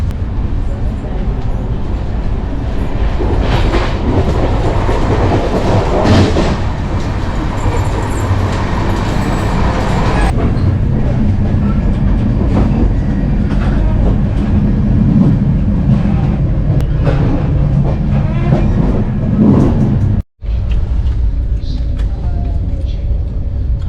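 A Tejas Express high-speed train runs fast along the rails on the Mumbai–Konkan route, giving a loud, continuous rumble with rattling that stays steady throughout and is briefly cut near the end.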